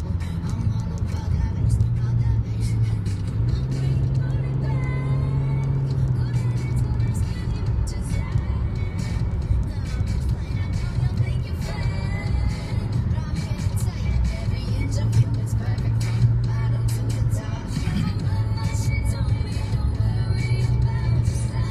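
A car cruising along the Saw Mill River Parkway near Yonkers on a cool, clear autumn day, heard as a continuous interior drone of engine and road rumble that holds steady throughout.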